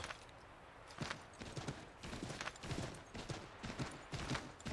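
Horse hooves clip-clop in Assassin's Creed 3, a steady gallop of dull thuds repeating about twice a second over a constant game background, with no talk.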